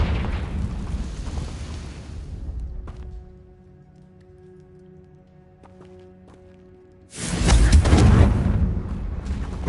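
Confringo fire spell blasts in the game Hogwarts Legacy: a loud, roaring explosive burst, then a quieter stretch with faint tonal ambience, then a second heavy fiery blast near the end.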